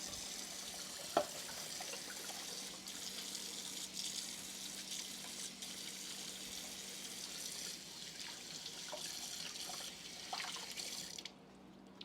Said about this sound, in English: You wash my knife.